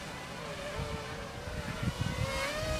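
A DFD F180 quadcopter drone flies with a steady, high whirring motor drone whose pitch slowly wavers, close and continuous over low rumbling handling noise, with no talking.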